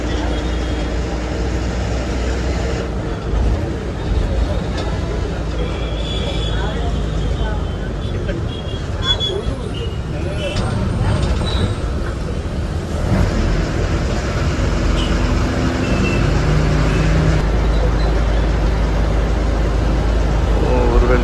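A TNSTC bus runs along the road from Pondicherry toward Chennai via Tindivanam, a steady low engine drone and road rumble filling the whole stretch, with faint voices underneath.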